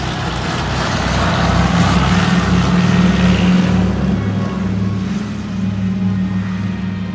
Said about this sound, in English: Watch now as he brings the engines back up to full speed. And rumbers down the runway.